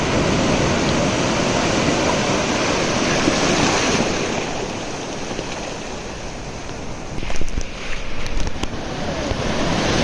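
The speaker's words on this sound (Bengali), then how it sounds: "ওয়াও, বিশাল বড় একটা ঢেউ আইতাছে" Big ocean surf roars close by with heavy wind buffeting the microphone, a continuous broad wash that eases slightly midway, then a fresh crashing burst of breaking water.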